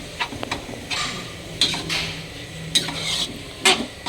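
Pork stir-fried in a pan: steady close sizzling with repeated scraping strokes of a spatula against the pan at irregular intervals.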